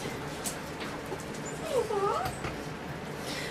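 A puppy gives a short, high, wavering whimper midway through, fairly close against a steady indoor background, with no talking.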